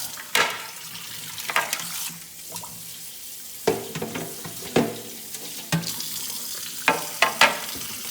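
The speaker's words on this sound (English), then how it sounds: "Now we're gonna rinse them off one more time" Pork ribs rinsed under running water in a kitchen sink, a steady splashing flow broken by several sharp knocks and clatters as the meat is handled, close and fairly loud.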